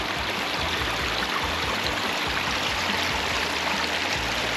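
Water spills steadily down a pondless backyard waterfall fitted with lights, a constant close rushing splash with no break and no voices.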